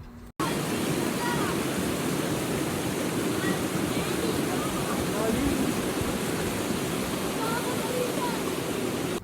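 Steady, loud rushing water fills the whole stretch, a constant broadband roar like a flowing river, with no pauses.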